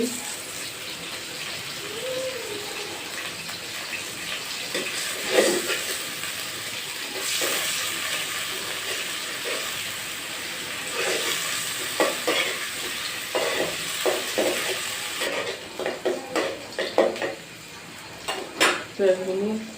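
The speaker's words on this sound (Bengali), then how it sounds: "পরিমাণ মতো দিয়ে দেবো পেঁয়াজ কুচি" Chopped onions frying in a pan, with a steady broadband sizzle throughout and repeated stirring scrapes and utensil clinks growing busier toward the end.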